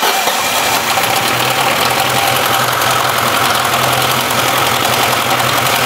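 A car engine with bearing balls dropped into a cylinder starts and runs, giving a loud, close, rapid rattling knock over a steady idle that continues throughout without talk.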